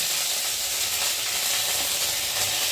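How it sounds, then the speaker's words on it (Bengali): Ginger and cumin pastes frying in a pan for a Bengali shukto, giving a steady, close sizzling hiss that holds evenly throughout with no voices. "আর এখন আমি দিয়ে দেবো আদা বাটা আর জিরে বাটা, দিয়ে একটু ভালো করে ভেজে নেব"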